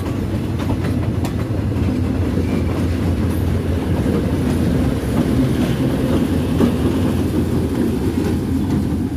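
Locomotive 4025 rolls through Bangkok's Hua Lamphong station with a loud, continuous rumble and rhythmic wheel clatter, heard up close.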